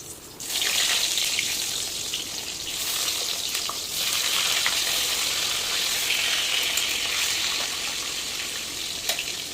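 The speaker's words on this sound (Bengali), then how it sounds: "আলুগুলো ভালো করে ভাজা করে নেব।" Potatoes frying in oil in a wok for a mutton, papaya and potato curry, giving a steady, fairly loud hiss and crackle of sizzling that runs almost unbroken through the whole stretch, with no voices.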